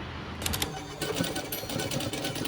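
A sewing machine stitching Levi's jeans being reshaped into a military style, with a close, steady rapid whirring and clatter of the needle, briefly dipping near the start.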